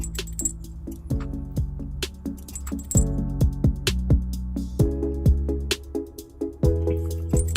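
A carriage bolt with a small plate is fed through the hitch access hole in the frame of a 2012 Subaru Outback, giving a series of close metallic clinks, rattles and jangles in uneven bursts.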